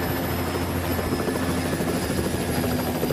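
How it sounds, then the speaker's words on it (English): Continuous loud helicopter rotor thump and engine whine as a helicopter flies a patient to a trauma center, steady and close, filling the whole stretch with no voices. "I put Michaela into the helicopter and flew to the trauma center."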